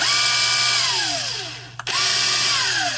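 A DeWalt 36-volt 1/2-inch drive cordless impact wrench whirs up with a falling-pitch whine, stops briefly, then spins again with another descending whine, loud and close.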